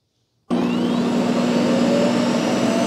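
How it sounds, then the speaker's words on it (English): A Shark AI Ultra robot vacuum's self-empty base switches on abruptly after silence, emptying the robot's dustbin with a loud, steady suction roar and a constant whining hum that holds to the end. "it's going to turn on this vacuum cleaner to suck everything out"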